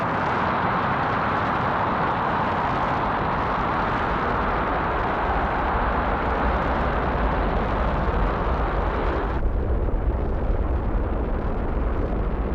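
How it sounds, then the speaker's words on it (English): A Titan II rocket launches a Gemini capsule toward orbit, producing a continuous heavy roaring rumble that stays loud and steady before the higher hiss drops away near the end, with no voices. "it was being boosted to orbit by its Titan II launcher"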